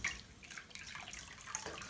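Water drips and trickles from wrung-out yarn that has been soaked in avocado dye, an irregular patter of close drops splashing back into liquid.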